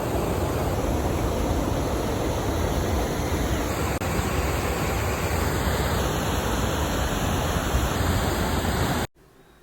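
Continuous hiss and roar of water spilling down a small village waterfall, close and steady with no voices, cutting off abruptly at the end.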